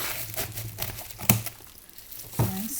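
Plastic wrapping on a Diamond Art Kit box crinkles steadily as it is cut down the middle, with two sharp crackling snaps standing out near the end; close and moderately loud, with no talking.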